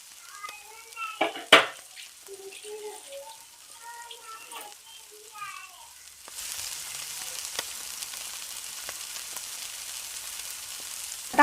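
Bread stuffed with gram-flour batter fries in plenty of oil on a tawa over medium-low gas; a voice talks first, then a steady, close hissing sizzle takes over and continues to the end.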